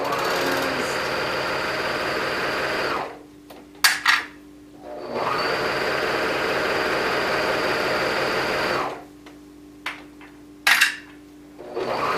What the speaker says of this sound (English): keep stitching all the way along